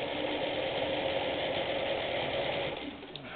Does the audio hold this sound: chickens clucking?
no